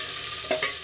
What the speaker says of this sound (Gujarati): આપણે ડુંગળીને આછા ગુલાબી રંગની થઈ જાય ત્યાં સુધી આપણે સાંતળી લેશું.